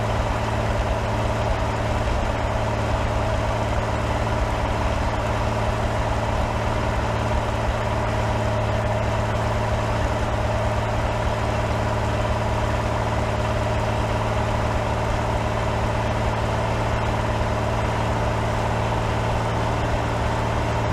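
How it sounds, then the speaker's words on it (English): A rebuilt Rolls-Royce Merlin 724-1C aircraft engine runs on a display trailer, giving a loud, continuous, deep mechanical drone with a steady low hum that holds unchanged throughout, with no one talking. "The rebuilt engine runs magnificently and stands as a near factory-fresh example of this iconic power plant."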